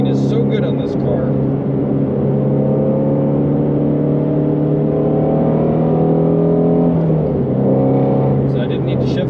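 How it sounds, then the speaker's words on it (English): A 2020 Ford Mustang Shelby GT350R engine hums loudly and steadily under load, then blips sharply near the end as it rev-matches through a downshift. "And the rev matching is so good on this car."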